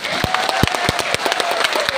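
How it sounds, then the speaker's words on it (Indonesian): An audience claps at a large Islamic religious gathering in Hong Kong, a brief burst of sharp, irregular handclaps close by and fairly loud. "Tepuk tangan untuk Mbak Arifah."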